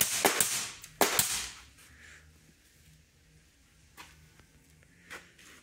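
Pneumatic fastener gun firing into cold-molded diagonal wooden boat planking, with two sharp loud shots close together near the start, then a few fainter isolated taps spaced apart against a quiet background.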